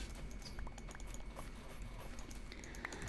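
A guinea pig drinks from its water bottle, making faint, irregular ticking and clicking taps over a quiet background.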